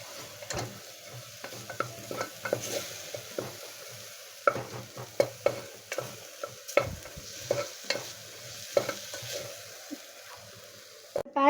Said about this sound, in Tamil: இஞ்சி பூண்டு பேஸ்ட் வந்து நல்லா வதங்கிருச்சு